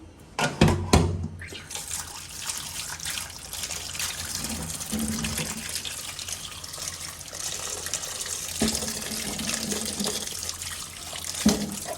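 Tap water runs steadily into a bowl while vegetables are washed by hand, a continuous close splashing with a few louder clattering bursts near the start and again toward the end.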